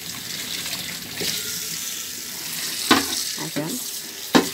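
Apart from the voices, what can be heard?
water running while washing dishes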